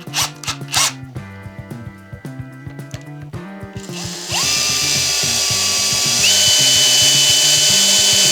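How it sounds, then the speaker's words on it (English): A power drill runs underwater in a bucket of lukewarm water, starting after scattered clanks and bumps, then whirring steadily and loud with a rising pitch shift, sustained to the end. "I'm just going to drill it underwater"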